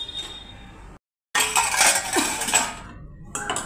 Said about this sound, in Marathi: आपण कढई ठेवली.